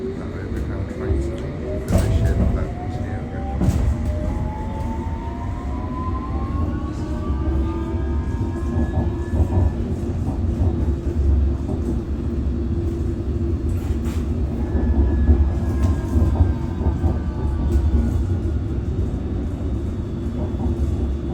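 A London Underground District line train heading to Richmond rolls along with a steady low rumble and rising and falling motor whine, punctuated by occasional clanks, heard from inside the carriage.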